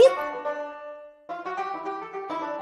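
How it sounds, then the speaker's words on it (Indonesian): Banjo plucked in a short phrase, bright twangy notes ringing out, a brief pause, then a second burst of picked notes, clear and close with no voices. "Salah, ini namanya banjo."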